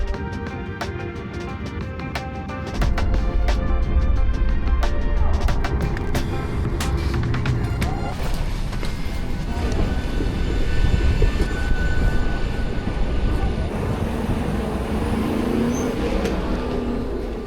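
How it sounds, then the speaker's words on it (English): An airliner landing at Dublin, heard from inside the cabin: a muffled engine drone that swells into a louder rumble with rattling as the wheels meet the runway, then continuous rolling roar. "Landing into Dublin, that concludes the flight."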